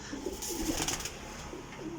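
Flying pigeons kept at a bird seller's, cooing softly in low repeated notes against a steady ambient hum, fairly close and continuous, without any talk.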